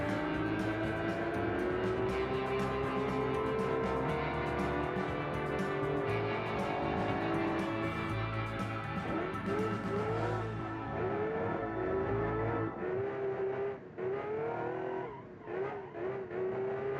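Simulated GT race car in BeamNG Drive revving hard with rear-wheel spin and squealing tires, a continuous loud engine drone with rising pitch sweeps and skidding screech, no talking.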